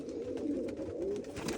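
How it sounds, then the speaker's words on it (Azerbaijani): A pigeon or dove cooing close by, a low steady coo lasting the whole short moment, alone with no talking. "Quşdur da."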